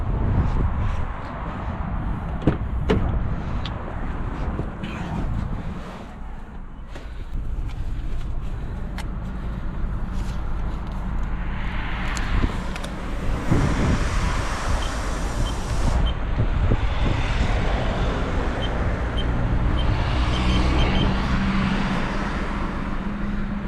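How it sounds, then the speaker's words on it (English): An automatic car wash runs over a car, a steady broad wash of machine rumble and spraying water heard from inside, with shifting brush and blower noise swelling in the second half. "just gonna put it through the car wash"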